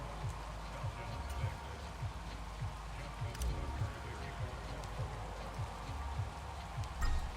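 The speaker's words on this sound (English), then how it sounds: "The rain set to continue as we are up at the 17." Steady rain hiss falls across a Madden NFL 23 football game at halftime, a continuous wash under rhythmic low thumps and crowd-like background, with no words spoken over it.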